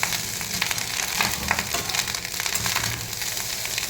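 Leftover rice fries in a pan with chilli, onion, egg and coriander, giving a close, continuous sizzle with light scraping and stirring sounds and no talk.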